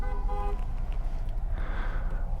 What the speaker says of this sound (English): Some dude just honked